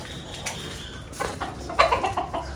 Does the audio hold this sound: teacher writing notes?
no